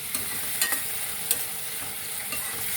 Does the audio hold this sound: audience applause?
no